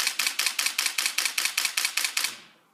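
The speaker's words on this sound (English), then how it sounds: "the Nikon D700 can do 5 frames a second, which sounds like this." A rapid burst of mechanical shutter clicks from a Nikon D700 at five frames per second, about a dozen evenly spaced snaps, close and crisp, then silence.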